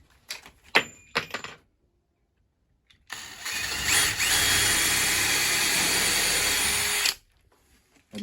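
A power drill drives a screw into a timber stud in a stud wall for a skoolie bus conversion: a few short clicks and bursts, a pause, then one sustained whirring run of about four seconds that stops abruptly.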